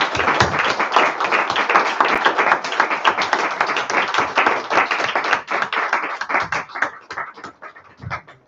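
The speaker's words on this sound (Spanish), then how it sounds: "Un aplauso para el Señor" A congregation at a Sunday celebration and prayer service for the persecuted church applauds with rhythmic, fairly loud clapping that gradually thins and fades toward the end, with no voices heard.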